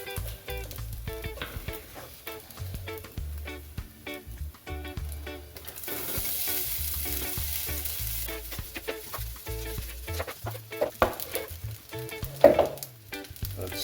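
Egg-fried rice with kielbasa sizzles in a pan as it is stirred around, steady frying hiss broken by scraping and clinks of the utensil, with music playing underneath.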